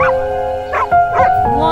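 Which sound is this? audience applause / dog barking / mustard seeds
dog barking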